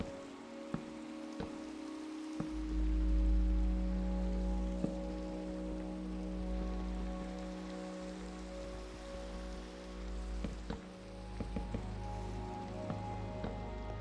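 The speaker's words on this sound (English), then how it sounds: "I hear the rain." Rain in the Minecraft TerraFirmaGreg video game, a soft steady patter over low droning game music, with occasional faint clicks.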